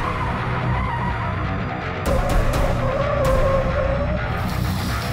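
An electric scooter skids hard across a road surface, a rising squealing whine building up about midway and holding for a couple of seconds over steady rumbling wind and road noise, with no talking.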